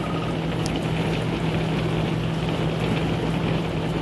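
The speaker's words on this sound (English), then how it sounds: "It just started pouring rain." Heavy rain pours onto an RV roof in the middle of the night during a large storm system, a dense, steady roar with a low hum beneath it and no pauses across the stretch.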